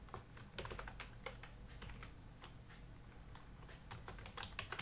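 Code is typed on a computer keyboard, a close, steady stream of quick key clicks with uneven rhythm and occasional heavier taps.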